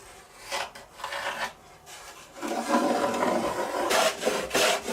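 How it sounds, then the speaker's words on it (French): A wood plane levels the body of a hurdy-gurdy with several close, rasping strokes across the wood, the longest one steady in the middle. "La mise à niveau se fait au rabot."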